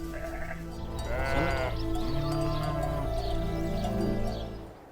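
Sheep bleat loudly and close by in a desert farming area, a long wavering call overlapping other bleats from the flock, with no speech.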